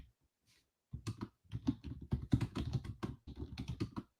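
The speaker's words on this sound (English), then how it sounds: "I'm going to type in our WebEx." Typing on a computer keyboard, a quiet run of close, uneven key clicks and taps following a brief silence, with no talk.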